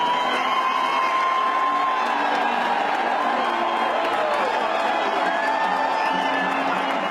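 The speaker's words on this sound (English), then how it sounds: "he received a big ovation." A large crowd cheers and whoops for Donald Trump as he greets them from a balcony, a continuous roar of voices with scattered applause and shouts over the whole stretch.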